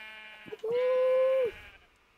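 A Minecraft sheep gives one clear, sustained bleat, loud and close, after a couple of short clicks.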